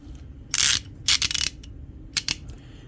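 A new old stock Gearwrench 84-tooth ratchet, 1/2 inch, gives several quick bursts of fine, fast clicking as it is swung back and forth up close, separated by short pauses.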